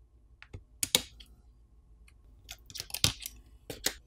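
A plastic cover is pried off a Samsung Galaxy Z Fold 3 5G during a teardown, sharp close clicks and small snaps in scattered clusters, quiet between them.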